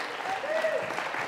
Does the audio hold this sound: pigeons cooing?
no